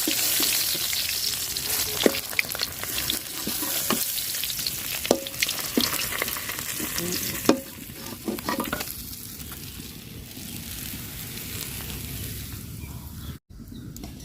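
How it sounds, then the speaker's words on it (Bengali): Rani khoiya fish frying crisp in hot oil, with a steady loud sizzle and occasional sharp clinks of a stirring utensil against the pan, the sizzle settling slightly softer toward the end. "মাছ ভাজা নিছি, কড়া করে তুলে নিব এখন। লাল লাল করে ভাজা নিছি।"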